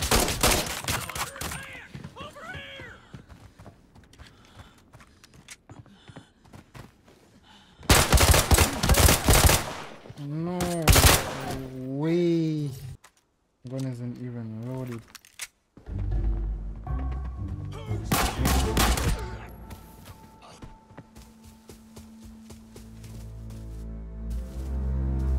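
Gunfire in the video game Arena Breakout, with scattered shots and bursts of automatic fire mixed with game sounds and mechanical clanks, loud in places and separated by quieter stretches.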